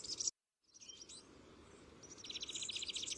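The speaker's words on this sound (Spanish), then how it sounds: "Unos jilgueros parlotean en los acebuches que rodean la taula de Torretrancada, en Menorca." Goldfinches chatter in wild olive trees around the Torretrancada taula on Menorca, a month before spring. A quick burst of chirps is followed by a short silence, then a rising, busy run of bright twittering calls over faint background noise.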